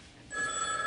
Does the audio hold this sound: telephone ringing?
yes